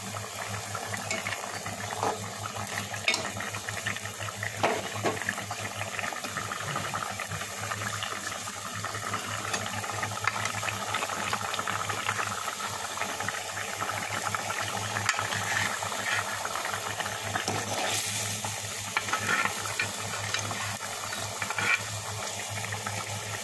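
Hilsa fish curry with pointed gourd and raw fish roe simmers in a pan, a continuous soft bubbling and sizzling with faint clinks, steady throughout.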